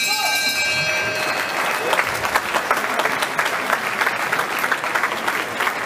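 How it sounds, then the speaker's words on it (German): An audience at a boxing match applauds the boxers, with steady dense clapping and crowd noise, while an announcer's voice is heard over it. "Euer Applaus für Christian und Simon"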